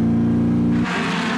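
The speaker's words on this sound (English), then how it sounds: "The sound of a car completes the experience." A car engine holds a steady droning rev, then the pitch drops and shifts into a rougher, broader roar, loud and close with no voices over it.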